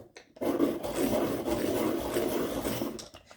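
A colored pencil being turned in a sharpener gives a steady, close rasping grind for about three seconds, starting abruptly and fading at the end, with no talking.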